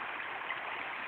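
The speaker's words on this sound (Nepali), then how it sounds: "हेर्नुस् कति सुन्दर छ यो पानी, कल कल कल कल बगिरहेको" Flowing stream water, a soft continuous babbling wash that stays faint and even throughout, with no voices.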